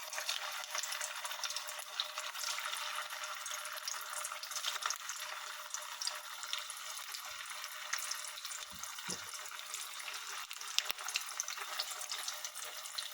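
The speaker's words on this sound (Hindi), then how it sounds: "इसमें मैं वड़ा फ्राई करूंगी।" Sabudana vadas fry in hot oil, giving a steady, even sizzle and hiss throughout, with a few faint clunks of handling in the middle.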